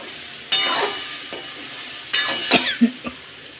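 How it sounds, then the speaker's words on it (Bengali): Boiled chickpeas frying with onion and chili sizzle loudly in a pan, with several abrupt bursts of stirring and clinking against the metal. "ছোলাটা প্রথমে সিদ্ধ করে পেঁয়াজ লঙ্কা দিয়ে ছোলাটা ভাজা করছি।"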